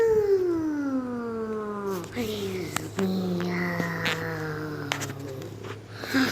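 A voice imitates a cat, drawing out a long sliding meow, followed by more playful vocal sounds and a few clicks nearby.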